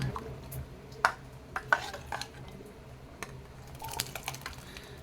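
A spoon clinks and scrapes against a metal pot as cooked toor dal is mashed for okra sambar, giving several sharp taps spread over a quiet kitchen background.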